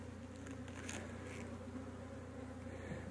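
Honey bees buzz in a steady, continuous drone, close and fairly quiet, with no other sounds breaking through.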